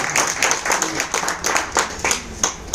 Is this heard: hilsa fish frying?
no